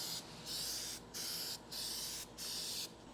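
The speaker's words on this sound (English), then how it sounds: "Probably gonna do like 2 more coats of this aerosol" Spies Hecker aerosol spray paint hisses out of the can onto a bedside in close, even bursts: three long sprays separated by short pauses, with no voices.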